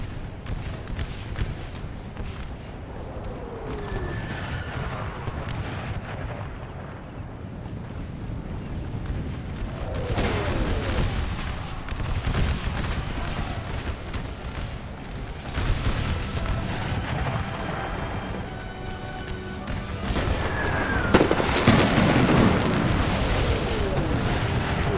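Cannon artillery volleys in an American Civil War battle game, deep booms rolling out repeatedly over a constant battlefield din, with a heavier cluster of blasts near the end.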